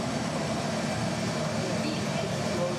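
A miniature Airbus A380 model with its jet turbines running hums in a steady, even whine before takeoff at a model airport, a continuous close mechanical drone while someone talks over it.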